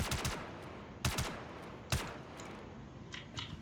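Bursts of gunfire from a shooter video game: a quick double shot, then two single loud reports about a second apart, followed by fainter distant pops, with no talking.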